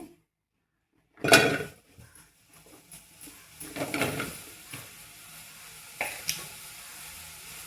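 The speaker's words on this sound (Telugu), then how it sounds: "స్టవ్ అయితే ఆన్ చేసుకున్నాం కదా మరి ఇప్పుడు దీంట్లో కొంచెం బెండకాయలు వేసుకొని ఫస్ట్ బెండకాయలు మగ్గిస్తామని" Okra goes into a hot pan on a stove, with a sharp crackling burst followed by a softer ongoing sizzle and a few light scraping and clinking touches, close by and with no talking.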